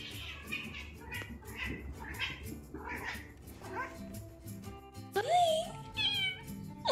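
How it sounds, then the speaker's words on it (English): A cat meows several times in a row, close and fairly loud, alongside other small animal-like squeaks and cries. "Meow, meow, meow."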